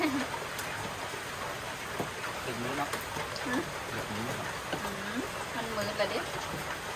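Rain falls outdoors as a soft, steady hiss in the background while a voice talks intermittently over it.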